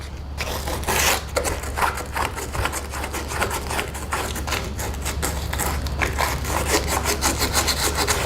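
Hand sanding with 80 grit sandpaper on a Manx dune buggy headlight mount, a continuous close scratchy rasp with quick rhythmic back-and-forth strokes.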